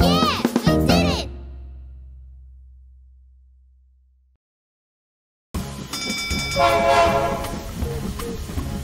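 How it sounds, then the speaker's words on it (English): Cartoon train arriving in a children's animated song, with a loud burst of horn-like tones and clatter at the start, a long fading rumble and silence, then busy rail noise with harmonic horn blasts returning. "Mr. Train is almost here."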